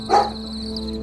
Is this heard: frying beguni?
no